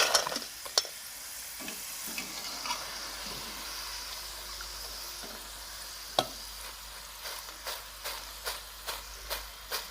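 Potato chips frying in hot mustard oil give a steady soft sizzle with occasional sharp crackles and spatters, plus a few scraping stirs near the end, at moderate volume with no talk.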